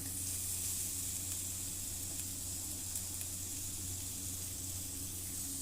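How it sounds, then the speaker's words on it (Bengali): Chopped tomato frying with onion paste in a wok, a steady soft sizzling hiss held evenly throughout, close but faint, with no voices. "এবারে এতে দিয়ে দিচ্ছি টমেটো কুচি।"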